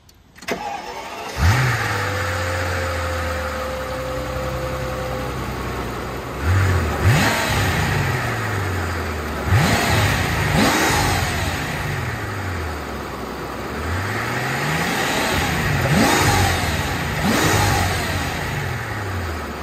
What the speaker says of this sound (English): One of the most monstrous engines I've witnessed for a review so far.